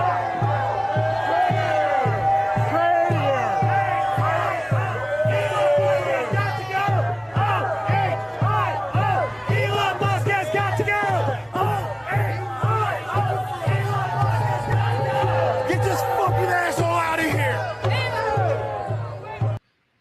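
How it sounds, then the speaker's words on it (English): Crowd of protesters jeering and shouting at a passing truck, loud and continuous throughout with overlapping voices and whoops, over a steady low vehicle hum. "They're booing a car."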